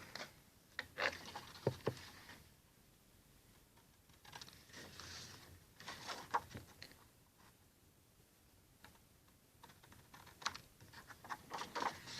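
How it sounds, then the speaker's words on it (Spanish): Scissors snip paper tabs off an isometric cube paper model, making short crisp clicks and crunches in scattered bursts with quiet pauses between them and no talk. "Para quitar las pestañas ya de manera mucho más fácil, puedo utilizar las tijeras."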